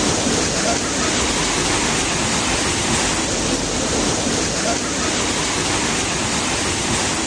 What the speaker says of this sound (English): The force of the current in some streets has been strong enough to sweep away heavy objects